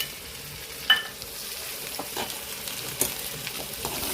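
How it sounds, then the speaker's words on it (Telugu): Ginger garlic paste frying in a pan with egg, a soft sizzle with a few sharp stirring scrapes and clicks scattered through it, close and moderately quiet. "ఇప్పుడు దీంట్లోకి కొంచెం అల్లం వెల్లుల్లి పేస్ట్ వేస్తున్నాను."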